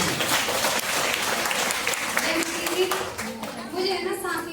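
Congregation at a church anointing-oil meeting breaking into loud applause, dense clapping from many people with voices mixed in, tapering toward the end as someone begins speaking.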